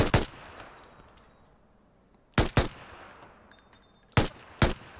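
Gunfire in PUBG comes in three short, sharp pairs of shots, loud and close, separated by quiet gaps with a faint background hum.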